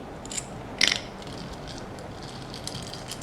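Plastic Lego bricks being searched through in a pile, heard as a soundscape: light clicking and rattling clatter with one brief louder burst of rustling pieces, otherwise faint and close.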